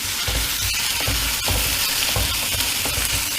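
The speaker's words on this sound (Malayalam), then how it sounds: "ഈ സമയത്ത് ചെറിയ ഉള്ളി ഒന്ന് വാടി വരുന്നവരെ, ഒരു ചെറുതായിട്ടൊന്ന് നിറം മങ്ങുന്നവരെ ഒന്ന് ഇളക്കി കൊടുക്കുക." Small onions sauté in a hot pan, sizzling loudly and continuously while a utensil stirs and scrapes them in quick repeated strokes, close and with no talking.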